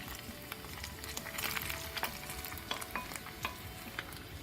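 Potatoes fry in oil with ground meat in a pot, crackling steadily while being stirred, with scattered sharp pops and spatula scrapes close to the mic.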